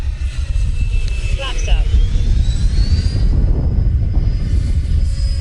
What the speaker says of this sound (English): Bring her in for a slow pass.